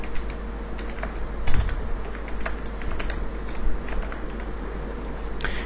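Computer keyboard typing into a Microsoft Word web form field, a steady run of light, close key clicks over a constant low background hum, with no talking.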